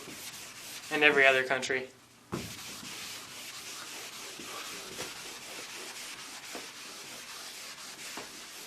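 An eraser scrubs back and forth across paper after a short spoken phrase, producing a close, dry, continuous rubbing texture that lasts several seconds at a steady level.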